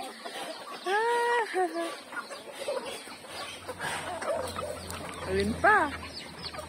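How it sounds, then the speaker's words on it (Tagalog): Chickens cluck in a series of harmonic calls near and fairly loud, with people chatting over the flock throughout. "Ang dami manok."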